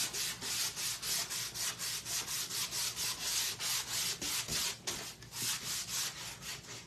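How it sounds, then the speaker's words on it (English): A wooden sign is sanded by hand, a steady rhythmic rasping of back-and-forth strokes, close and fairly loud, with no voices. "y'all know I always come back and sand"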